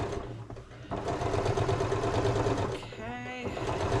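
A domestic sewing machine runs a seam on a skirt in steady bursts of rapid stitching, close and fairly quiet, while someone talks over it.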